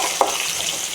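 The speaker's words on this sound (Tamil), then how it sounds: "இது எல்லாத்தையும் நல்லா வதக்கிக்கோங்க." Garlic, dried chillies and small shallots sizzle and crackle steadily in a hot pan, with a brief stir or tap of a utensil near the start.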